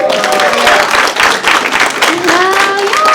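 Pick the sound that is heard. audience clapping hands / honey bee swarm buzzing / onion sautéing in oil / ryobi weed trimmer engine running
audience clapping hands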